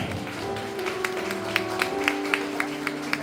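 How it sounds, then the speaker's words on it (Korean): Wedding guests clap in slow, even time over soft background music, a faint run of regular single claps spaced about a quarter second apart. "이렇게 사랑이 넘습니다 여러분 박수 부탁드립니다"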